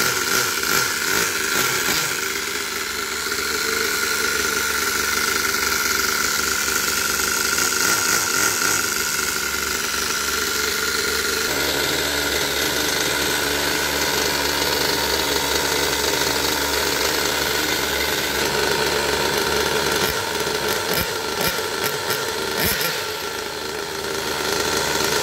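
A small nitro RC car engine fitted with a homemade exhaust runs loudly and close, a raspy buzzing drone with ratcheting pulses whose pitch shifts partway through and dips briefly near the end.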